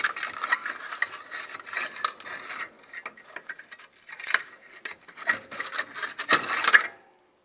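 Scraping and rubbing of metal as a heat shield is worked off a front catalytic converter on a 2007-2015 Mazda CX-9, in irregular close bursts of rasping friction with short pauses, then silence at the end.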